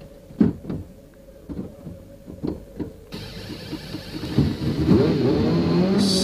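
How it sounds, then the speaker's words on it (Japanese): A 1992 Formula 1 car at the Estoril circuit on a hot day, its engine cranking through several sharp coughs and catches before firing and settling into a rising, steady drone. "さあ、やっとエンジンがかかりましたが、最後尾からのスタートとなってしまいました。"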